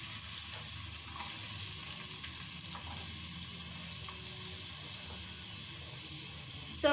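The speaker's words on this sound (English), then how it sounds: "Cook our onions until they turn golden brown." Onions frying in hot oil produce a steady, close, fairly loud sizzle that holds evenly throughout, with a few faint stirring touches and no talk.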